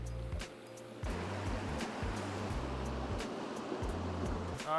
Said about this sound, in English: We made it all the way to the top of the waterfall.